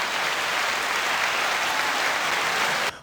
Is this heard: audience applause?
yes